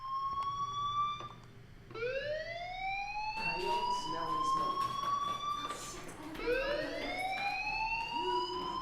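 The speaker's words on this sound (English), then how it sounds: "Hey, do you hear that fire alarm? That means you should be outside." Fire alarm in the video game Life Is Strange, rising electronic siren-like sweeps repeating loudly and steadily through the clip, with rapid tonal whoops layered over a low background hum.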